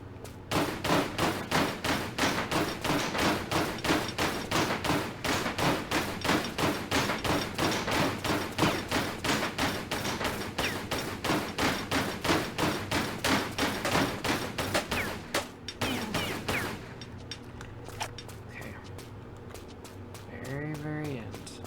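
Rapid, steady gunfire from target practice at Lara's Home in Tomb Raider III fills most of the stretch as loud repeated shots. It stops near the end, leaving quieter game sounds.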